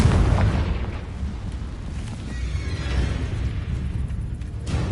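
A fire-blasting spell explodes in a wizard video game, a deep booming burst that rolls out and rumbles on for several seconds with no talking.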